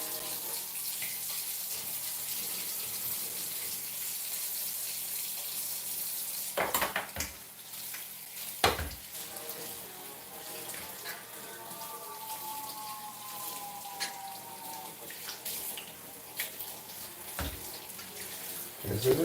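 A pot lid washed under a running kitchen tap: a steady hiss of flowing water throughout, broken by a few sharp clanks and knocks of the lid against the sink, with no talking.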